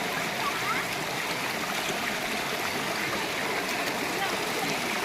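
The Kallar river flows in a continuous broadband rush of running water, steady and fairly loud from start to finish, with faint bits of background voices mixed underneath.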